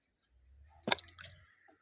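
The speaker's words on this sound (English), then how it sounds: "when I drop this stone in this pool of water, you discover that water is being disturbed" A stone dropped into a small pool of water, a single close splash with a sharp wet plop followed by brief dripping and settling ripples in an otherwise quiet room.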